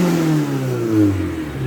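Close-up, a Ford Escort Mk1 engine with an airflow fault is revved and hesitates, its pitch rising and sagging unevenly rather than climbing cleanly, with no voices.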